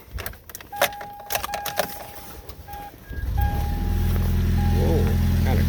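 Toyota Prius fitted with a custom high-performance exhaust: after a few seconds of street noise, brief clicks and a thin electronic tone, a steady, fairly quiet low exhaust drone rises and holds to the end.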